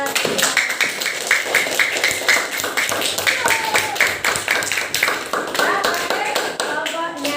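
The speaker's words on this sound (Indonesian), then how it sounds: "tepuk tangan untuk kelompok melihat" A group claps in uneven, brisk applause, close and fairly loud, with voices murmuring underneath.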